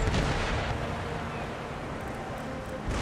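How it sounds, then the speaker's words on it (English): Starboard ship cannons firing during a naval battle in the video game Empire: Total War, a dense, continuous roar of booming blasts with a heavy low rumble, loud and close throughout. "Load me starboard cannons."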